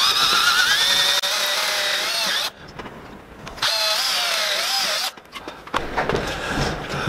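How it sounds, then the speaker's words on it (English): A power drill bores into a wooden workpiece held against an adjustable fence, whining loudly and steadily in two long bursts separated by quieter pauses, with no voices. "Hold that steady and drill."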